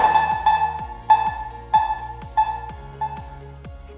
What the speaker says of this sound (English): The alarm will get louder the second time around.